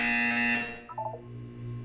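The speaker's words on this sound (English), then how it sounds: "When you hear the buzzer, look up at the ceiling." A loud electronic buzzer from the Portal 2 test chamber sounds steadily for about half a second, then cuts off and gives way to a short, softer series of tones followed by a low hum.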